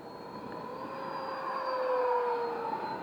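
A Freewing F-18 90mm electric ducted-fan RC jet flying overhead, a continuous high whining howl with steady tonal whine that rises and shifts in pitch as it passes, loud and close with no voices.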